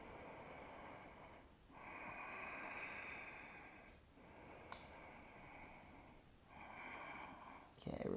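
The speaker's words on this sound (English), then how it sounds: "Let's do 2 more breaths" Slow, steady breathing during a strap-assisted shoulder stretch in a yoga class, three long soft breath cycles with brief pauses between them, close and quiet.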